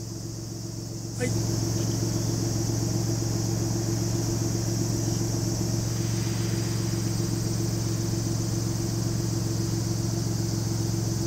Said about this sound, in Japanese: これを押すと車高が上がるんです